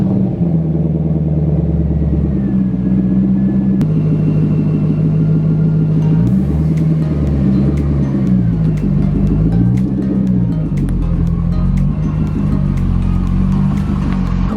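A C6 Corvette engine cold-starts and idles with a loud, steady, deep rumble close by. Its exhaust note swells and falls in a few surges midway through.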